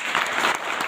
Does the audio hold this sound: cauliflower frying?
no